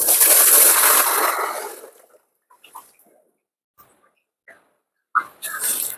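Water poured from a container into a plastic water drum being checked for leaks after repair, a loud broad splashing rush for the first two seconds, then quiet with a few faint drips and handling knocks, and a brief splash near the end.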